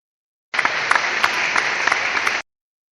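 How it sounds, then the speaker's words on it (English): Audience applause during a comedic political commentary show, a steady burst of clapping lasting about two seconds that starts and stops abruptly. "let's see if we can get a round of applause for that one"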